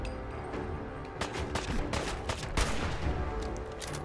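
Gunfire in the video game Fallout 4 in nighttime Boston, dense overlapping shots and bursts over a constant rumbling game background, loud and continuous.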